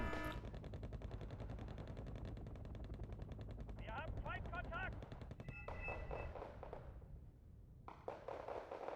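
Rapid 12.7mm minigun fire from an Mi-25 gunship in Wargame: Red Dragon rattles in long continuous bursts, with a voice talking over the shooting and other battle sounds mixed in.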